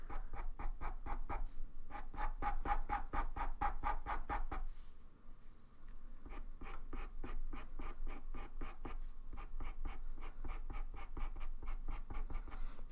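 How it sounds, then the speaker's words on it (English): A pencil drawing fox fur on paper at medium pressure makes a long run of rapid, rhythmic scratchy strokes. The strokes are close and fairly quiet, pause briefly partway through, and continue steadily with no voices. "I'm not pushing super hard for the first layers because I don't want to saturate the paper right away, so I'm using a medium pressure."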